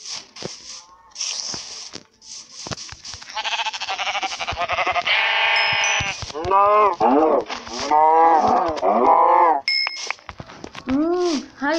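Cattle mooing and sheep bleating in the video game Minecraft, several animal calls following one another over a steady background, loud and close.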